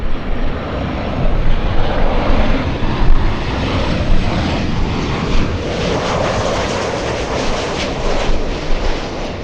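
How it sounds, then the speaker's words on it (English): A SkyWest passenger jet, flight 4001 to San Diego, takes off at Los Angeles International Airport with a loud, steady engine roar that holds strong throughout, swelling slightly midway. "SkyWest 4001, this one flying to San Diego, California."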